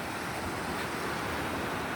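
Sea waves wash onto a beach in a steady, loud roar of surf with some wind rumble against the microphone, heard alone without talk.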